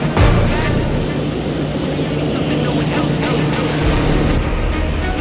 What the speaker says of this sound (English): Plane is pulling up now, so I'm gonna head out.